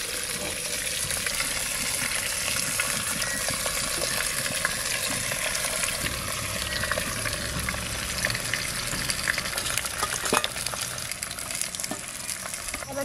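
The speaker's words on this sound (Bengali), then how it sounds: "এবার মাছ কটা মধ্যেখানে দিয়ে দেবো।" Koi fish dropped into a sizzling clay pot, giving a loud, steady frying hiss with crackling and bubbling that runs throughout, with no voices over it.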